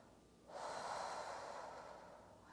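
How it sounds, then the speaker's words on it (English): Slow breath out through the mouth during a gentle seated chair stretch, a soft steady airy rush lasting about two seconds, faint and alone. "we're going to breathe out through our mouth to ground through the feet"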